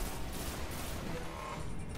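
Dense gunfire fills a Destiny raid encounter, with rapid, loud overlapping shots and bursts forming a continuous barrage.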